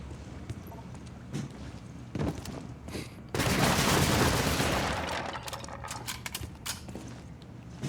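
Submachine gun fire in a video game, scattered shots early then a dense sustained burst in the middle, followed by further sharp sporadic cracks.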